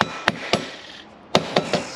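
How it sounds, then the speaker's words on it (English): Rawhide hammer strikes on a quad hub being bolted up during a hybrid quad build: five sharp, loud thwacks in two bursts, two spaced blows then three quicker ones, with no talk. "Again, I love these rawhide hammers."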